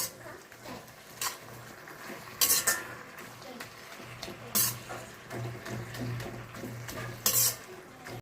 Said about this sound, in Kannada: ಚೆನ್ನಾಗಿ ಒಂದ್ಸತಿ ಮಿಕ್ಸ್ ಮಾಡಿಕೊಟ್ಟು ಮೇಲಿರೋದು ಕೆಳಗಡೆ ಇರೋದು ಮೇಲೆ ಮಿಕ್ಸ್ ಮಾಡಿಕೊಟ್ಟು